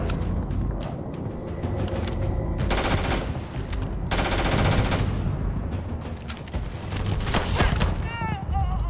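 Rapid bursts of pistol and weapon fire in the space shooter game Starfield, loud and dense, repeating in clustered volleys with brief gaps between them.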